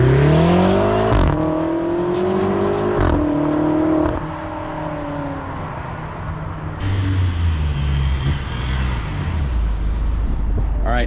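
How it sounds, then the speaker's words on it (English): A BMW X5M with a DCT gearbox accelerates hard through several gears, its engine note climbing and dropping sharply at each shift, loud and close throughout with no voices. "initial impressions of the crackles, the feeling of the DCT gearbox"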